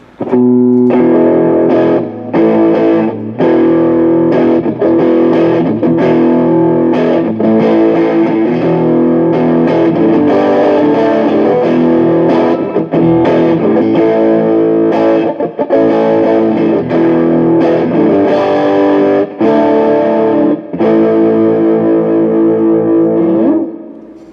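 Electric guitar played through a Johnson Millennium Stereo 150 amp on its Sweet Combo preset, a dense, effects-laden tone with sustained chords and melodic lines running steadily and loudly for the whole passage, no talking.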